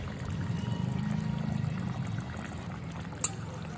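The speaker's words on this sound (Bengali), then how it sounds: "আর আমি 1/2 চামচ গরম মশলা বাটা জলে গুলে দিয়েছি, সেই গরম মশলা আমি দিয়ে দেবো।" Garam masala paste mixed in water being poured into a simmering bhetki fish curry, a short soft liquid pour and splash, close and quiet, followed by a small clink.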